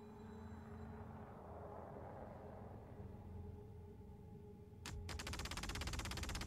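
Ship weapons fire in a Star Citizen Hammerhead versus Hammerhead space battle in the game, a low engine drone at first, then a sudden rapid burst of repeated shots that grows louder and continues to the end.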